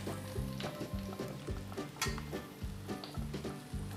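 Carrots dropped into hot oil in a pan fry with a steady close sizzle, overlaid by repeated low thumping and clattering from stirring or handling, no talk.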